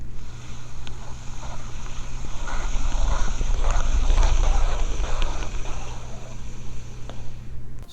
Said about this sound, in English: I'll put the mic on the actual reel and give it a spin so you guys can